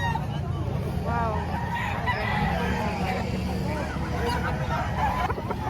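Boston bloodline gamefowl roosters crow and cluck at a busy poultry market, several wavering calls repeating over a steady crowd murmur while people talk nearby.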